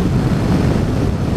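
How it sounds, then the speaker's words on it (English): Loud, constant wind buffeting a microphone while riding a motorcycle with a low screen on a country road, a heavy low roar of rushing air with no other sounds. "it's really windy with this low screen"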